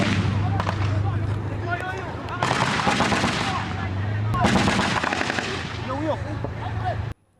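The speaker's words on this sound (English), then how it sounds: "A relentless gun, tank and artillery fire rocks the battle zone." Relentless gunfire, tank rounds and artillery blasts rip through a battle zone in a jungle offensive, with dense machine-gun bursts and heavy booms layered continuously and loudly, broken by brief lulls and a low rumbling hum underneath.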